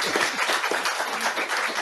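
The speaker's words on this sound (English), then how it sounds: "So, I'll clap for you." An audience at a declassification review forum claps for panelists, a brief steady patter of hands at moderate loudness.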